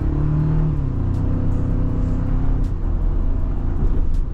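A Toyota Tacoma SR5 (4th generation) pickup truck engine revs hard under throttle, a loud deep growl that climbs and holds, close up and with no talking.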